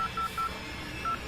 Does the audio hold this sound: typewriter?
no